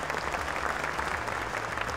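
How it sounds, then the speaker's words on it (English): A large audience applauds at an awards ceremony in New South Wales as the Premier is welcomed to host the evening; dense, loud, continuous clapping fills the room without any voices. "a big round of applause for the Premier of New South Wales."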